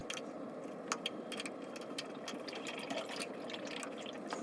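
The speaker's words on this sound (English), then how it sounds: "To start draining the tank, I'm going to open the drain valve" Steady low rushing and gurgling of water draining from a water heater tank through its drain valve and a hose, with occasional small clicks and drips, continuous and fairly quiet throughout.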